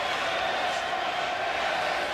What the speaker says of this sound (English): The crowd serenading Clark again tonight with the derisive cheer, Wendy, Wendy.